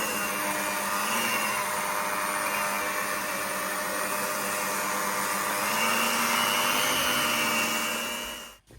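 A kitchen mixing machine kneads fish bun dough with a steady, loud motor whir and constant high whine, running unbroken before stopping abruptly at the end.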